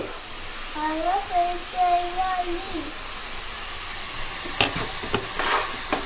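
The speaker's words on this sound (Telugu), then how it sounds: "ఇప్పుడు అల్లం వెల్లిపాయ పేస్ట్ వేయాలి." Ginger garlic paste sizzles in a pan for a small-fish curry, a steady broadband frying hiss throughout with brief voice-like tones early on and a few sharper clatters of stirring near the end.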